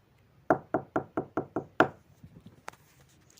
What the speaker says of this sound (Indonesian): Ia langsung turun dan mengetuk pintu rumah itu.